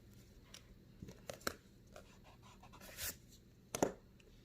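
A watercolor brush pen scratches and swishes across paper in short, soft strokes, quiet and close, with a few brief louder drags near the end and no talking.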